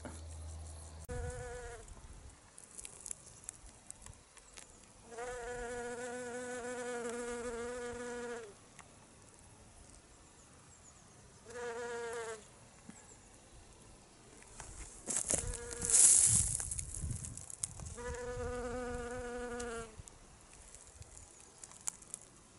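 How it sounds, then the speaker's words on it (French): Honeybees buzz around a hive in repeated bursts of humming as they fly close by and drift away, with quieter gaps and a brief rustle midway. "Donc là vous voyez les abeilles, elles sont tranquilles, elles ont de l'espace"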